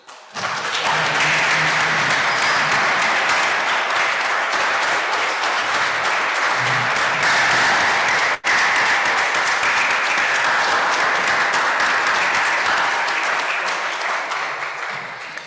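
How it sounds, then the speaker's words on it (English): Sustained applause from a large crowd at a Rotary Club civic meeting, loud and steady throughout, with a brief break midway before the clapping carries on and slowly fades. "give a round of applause for all of the women that we stand on their shoulders"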